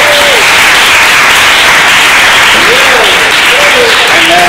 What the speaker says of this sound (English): I'm just going to make you keep clapping more